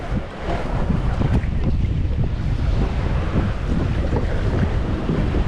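A kayak moves through ocean water off Hawaii, with a loud, continuous wash of water and wind buffeting the microphone, masking any paddle strokes.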